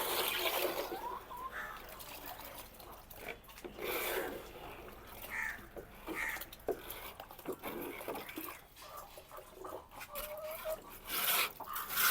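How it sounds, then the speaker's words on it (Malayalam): Water is poured along a channel to flush chicken waste away, splashing and trickling steadily at close range with irregular surges throughout. "പാത്തിക്കകത്തോട്ട് വെള്ളം ഒഴിച്ച് കൊടുക്കുന്നു."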